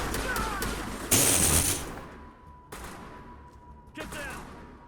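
Gunfire in the video game Mass Effect 1: a loud burst of rapid automatic shots followed by a couple of sharper single reports and trailing echoes, with a voice heard briefly.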